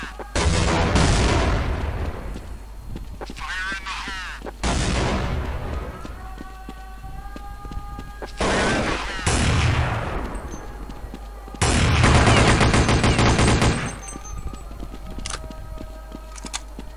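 Loud, repeated bursts of gunfire in an old Counter-Strike game, several rapid volleys and single shots spread over the stretch, mixed with in-game effects and background game noise.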